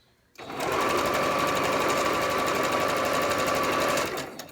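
A sewing machine stitches quilt seams for half-square triangles with a freshly changed needle, running at a steady, close, continuous whir for about four seconds after a brief silent start.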